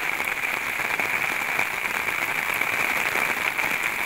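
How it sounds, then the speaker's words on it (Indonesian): Heavy rain falling over a rural village, a dense, constant hiss and patter that stays loud and unbroken throughout, with no voices. "seperti ini suasana hujan di pedesaan dulur ya"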